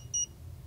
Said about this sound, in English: This weird thing is beeping at me.